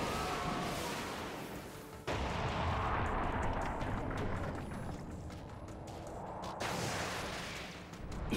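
A mortar-style jutsu attack in Naruto x Boruto Ultimate Ninja Storm Connections, heard as loud, continuous booming blasts and gunfire-like bursts that roll on for several seconds, with a fresh heavy impact partway through and another near the end.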